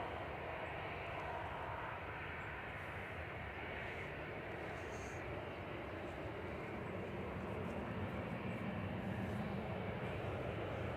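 TAP Air Portugal Airbus A320 Classic departing Manchester Airport for Lisbon in the evening: a distant, steady broadband jet engine roar that holds evenly throughout, faint and low behind the open air.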